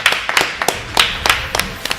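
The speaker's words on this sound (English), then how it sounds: "So much applause is breaking out here." Bursts of hand clapping, sharp and fairly close, in a quick uneven rhythm like a small crowd applauding with no voices, as winners are announced at a school Overwatch esports regional competition.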